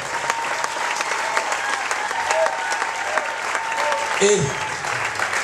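Sustained audience applause for the prefect at a youth camp gathering in Kribi, steady dense clapping throughout with a brief voice rising near the end.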